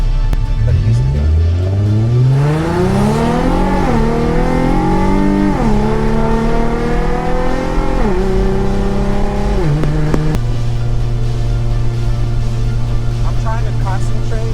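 A 2013 Infiniti G37 sedan fitted with a swapped VR30 transmission pulls away, its engine note climbing through several distinct upshifts before settling into a steady, loud cruising drone.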